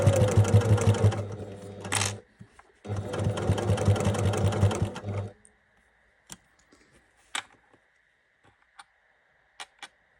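Sewing machine stitching a fabric health-book cover, two loud rapid bursts of needle chatter separated by a short pause, followed by quiet clicks and small handling taps.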